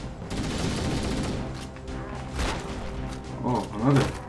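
Enemy gunfire in a Halo: Combat Evolved firefight rattles on steadily in dense bursts, with some heavier booms and electronic game sounds near the end.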